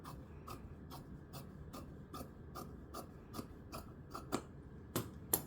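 Fabric scissors trim a 1 cm seam allowance on a draped garment pattern, giving about thirteen crisp, close snips in a steady rhythm, speeding up and growing louder toward the end, with no talking.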